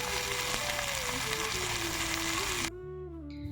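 Koi fish wrapped in banana leaf steaming in a covered pan over a hot stove, a steady close sizzle and hiss that drops abruptly near the end, with faint tonal background music throughout.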